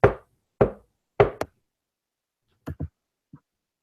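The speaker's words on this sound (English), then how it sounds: "Yeah, so I'll knock." Three loud, sharp knocks from a door knocker ring out, followed after a pause by a couple of softer raps and a faint final tap.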